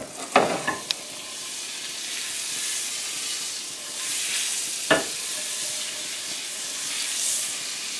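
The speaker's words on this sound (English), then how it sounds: "we're going to add some butter" Butter sizzles in a hot pan as a garlic sauce begins, a steady soft hiss over about eight seconds, broken by a few sharp utensil clicks near the start and one more midway.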